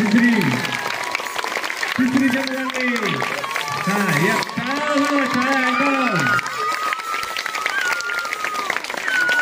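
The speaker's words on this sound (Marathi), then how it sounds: "सगळ्यांनी टाळ्या" Third-grade pupils at a Zilla Parishad school quiz competition clap together, a steady wash of applause running beneath a man's loud, continuous speech over a PA.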